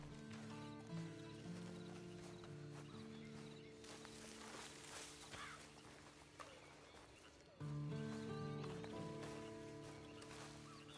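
Horse hooves clip-clop steadily in Red Dead Redemption 2, a quiet rhythmic plodding walk under in-game music and ambient sound, with a brief louder shift near the end.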